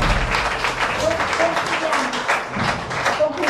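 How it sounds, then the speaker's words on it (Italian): Applause at an Italian facilitators' gathering, a dense patter of hands that stays fairly even for a few seconds with some murmuring mixed in. "Applauso."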